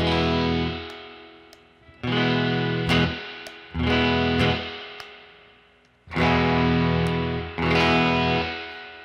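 Fender electric guitar played on the bridge pickup with surf-rock style distortion and reverb, loud strummed chords ringing out in several bursts that decay between hits, no talking.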